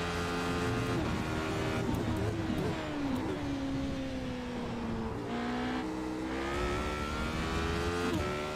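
A car engine drones through laps in a racing game, loud and continuous, pitch rising and falling with gear changes and acceleration, alone without talk.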